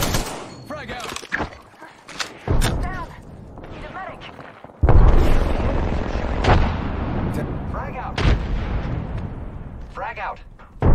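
Gunfire and explosions in the video game Apex Legends, including a frag grenade blast, with sharp bursts followed by heavy booming and rumbling, loud and dense, while voices speak over the action.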